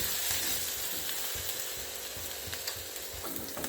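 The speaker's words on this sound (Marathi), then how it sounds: "आलं लसूण पेस्टचा थोडा कच्चेपणा जाईपर्यंत आपल्याला ही परतून घ्यायची आहे" Ginger garlic paste sautés in hot oil with cumin and mustard seeds, giving a loud, continuous close-up sizzle with light crackles and faint stirring scrapes and no speech.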